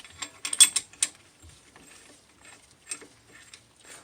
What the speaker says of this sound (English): We're going to go ahead and compress our caliper.